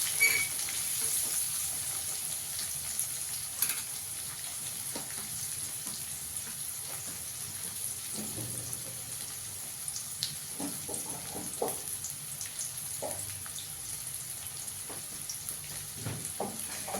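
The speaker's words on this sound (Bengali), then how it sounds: "পেঁয়াজটাকে একটু হালকা করে ভেজে নেব।" Two chopped onions frying gently in a pan for chicken pulao, a low steady sizzle with a few faint stirring scrapes and clicks.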